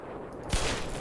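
A single sniper rifle shot in the Black Mesa video game, one loud blast with a long rumbling tail over a background hum.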